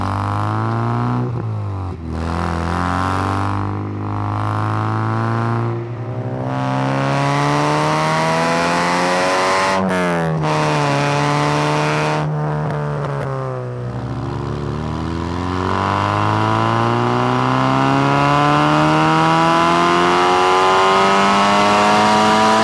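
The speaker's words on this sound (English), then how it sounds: "This is the 4-inch Malian exhaust, and this is what it sounds like." A Mazda MX5 NB fitted with a 4-inch Malian exhaust revs loudly and close, a deep droning note rising and falling through several long throttle sweeps, with the pitch climbing steadily toward the end, no talking over it.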